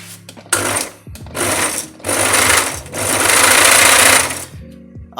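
Old second-hand sewing machine motor running noisily and dry for lack of oil and grease, loud close whirring and clattering in several bursts with short stops between.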